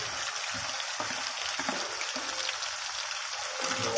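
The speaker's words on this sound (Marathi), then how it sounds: "आता तेल गरम करून घेतलेलं आहे, आणि आता आपण जे वाटण बनवलेलं आहे तेलात परतून घेत आहोत" A ground spice paste (vaatan) sizzles steadily in hot oil in a pan, a close, continuous hiss with occasional soft crackles, for a Maharashtrian mixed vegetable bhaji cooked for Makar Sankranti.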